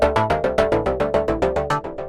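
A synthesizer preset plays a suspended-fourth unison chord with its modulation bypassed, struck as a steady run of about eight sharp, even stabs per second. Each stab is bright and loud, with no talking.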